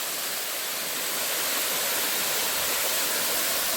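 Strong, fast-flowing water along the Bride's Pool nature trail in Tai Po, Hong Kong, roars as a continuous dense rush, loud and close, with no break.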